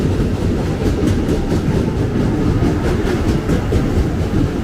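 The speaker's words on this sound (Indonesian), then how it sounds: "Ini dia nih komuteran tujuan Manggarai yang masuk ke jalur 1." A commuter train rumbles steadily past at close range entering a station platform, wheels clattering rhythmically over the rails in a continuous, loud roar.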